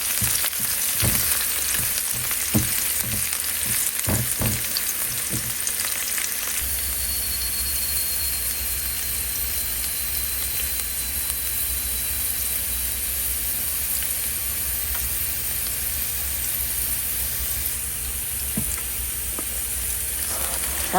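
Garlic frying in oil in a kawali for a Filipino adobo dish: a steady, close sizzle and hiss fills the whole stretch, with a few sharp clicks and taps early on and no talking.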